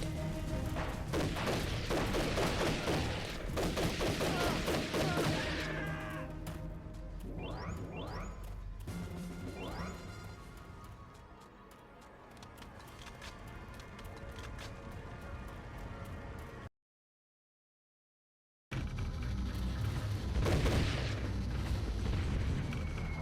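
Gunfire and cannon fire from Army Men: Sarge's War on GameCube: dense, loud blasts and rattling shots fill the first several seconds, then rumble on more quietly, cut off by a brief silence before another heavy burst.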